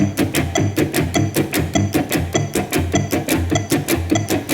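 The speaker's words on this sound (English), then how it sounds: "follow every left hand slap with a downstroke and upstroke of the pick to form triplets." Guitar played with a percussive left-hand slap followed by two picked notes, forming a steady, fast triplet rhythm, close and loud with no voice.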